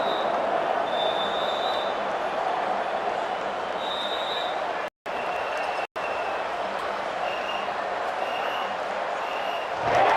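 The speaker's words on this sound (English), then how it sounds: "it's a loud crowd as the players make their way out" Steady, dense roar of a loud stadium crowd at a cricket match in a video game, a continuous wash of cheering with faint higher tones over it, broken by two brief cuts to silence.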